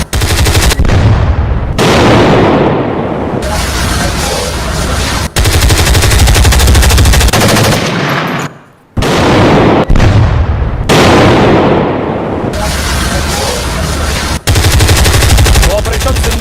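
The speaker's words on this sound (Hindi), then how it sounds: "स्वदेशी हथियारों से ही पाकिस्तान के पोस्ट उड़ाए गए" Heavy Indian weapons fire strikes Pakistani army posts in loud, sustained bursts of gunfire and blasts, broken by a few abrupt cuts and one short near-silent gap, with no voices over it.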